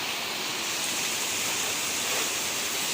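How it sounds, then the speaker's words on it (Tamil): Dense, steady rush of heavy rain pouring down during a storm in Chennai, a loud continuous hiss with no pauses and no voices. "மழை தண்ணி மாதிரி கொடுது பத பத பத பதன்னு கொட்டுது"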